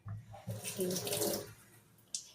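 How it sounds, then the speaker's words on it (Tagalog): Water pours into a cooking pot, set to boil for homemade noodles: a short, close splashing rush lasting about a second, then a brief clunk at the end. "Lalagyan natin ng tubig konti para po siya kumulo."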